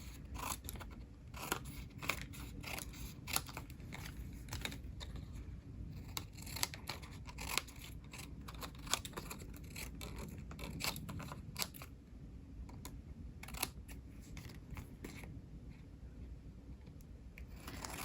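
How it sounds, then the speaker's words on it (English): Quick, crisp scissor snips cut through paper in irregular bursts, close up and fairly quiet, with no voices. "get your scissors and give it a little trim"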